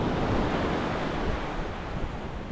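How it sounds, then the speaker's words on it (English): Wild Atlantic Ocean surf breaking on a quiet, empty beach, a steady loud broadband roar of waves with wind buffeting the microphone throughout, no voices. "This is wild Atlantic Ocean."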